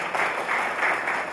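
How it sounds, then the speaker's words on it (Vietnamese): Steady clapping from a seminar audience cheering on a participant, a short even wash of hands without speech. "Cái đội hỗ trợ là vỗ tay giùm Khang."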